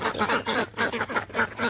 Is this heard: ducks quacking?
yes